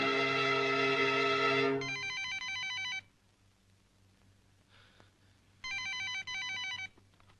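A telephone rings in a Malayalam comedy scene, with a long ring, then a bright electronic ring, a pause, and two more rings. The rings sound clear and close, with no speech over them.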